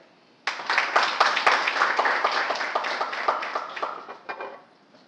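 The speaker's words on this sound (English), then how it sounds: "Could we have a round of applause for Akshay?" Conference audience applauding the incoming session chair at a forum on China: a round of distinct claps from a modest crowd starting abruptly, steady for about four seconds, then tapering off.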